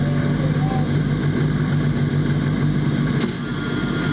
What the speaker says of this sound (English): Engine still running.